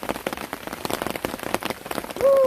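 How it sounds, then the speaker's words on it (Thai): Rain falls steadily during a rainy day out in open Thai fields, a dense close patter of drops striking a surface throughout, with a brief louder tone near the end. "ฝนกระตกดีเลยแท้"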